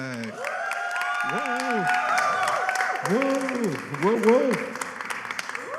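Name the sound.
audience applause for panelist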